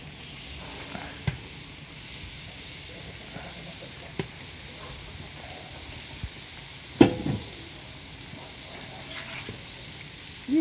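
Potatoes frying in oil in a homemade saj pan sizzle steadily with a constant hiss, broken by a few clinks and scrapes of stirring.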